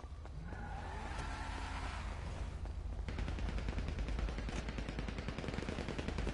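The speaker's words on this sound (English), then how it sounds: "Who the fuck is shooting, bro?" Rapid machine gun fire in GTA 5 during a PS4 car meet, loud dense bursts rattling continuously over engine rumble, strongest in the second half.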